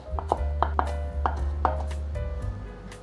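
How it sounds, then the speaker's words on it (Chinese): A knife mincing fresh ginger on a cutting board: a string of crisp, close chopping taps in irregular bursts over a steady low background hum. "先把姜切片、切丝，换一个方向切末"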